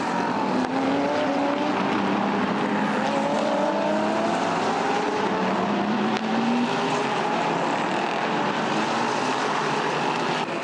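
Race cars in a Michelin Le Mans Cup race roar past in a steady, loud stream, with several engines overlapping and their pitch sweeping up and down through gear changes for the whole stretch.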